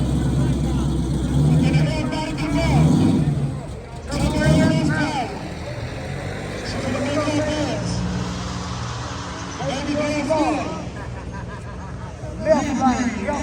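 A race car built by Donkmaster drives nearby, its engine revving and swelling in repeated rising pulls while several people talk and call out over it.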